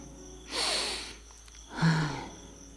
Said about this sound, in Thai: ทำท่าหลับตาสูดจมูกดมกลิ่นหอมด้วย